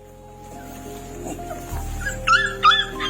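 A mother dog whimpers and gives short yelping cries, rising to a couple of louder yips near the end over a steady low background hum.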